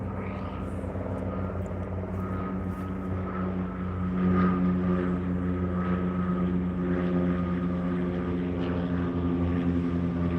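Steady droning engine of an aircraft near an airport, a continuous low hum with a sustained tone that swells slightly midway, loud and close with no talking.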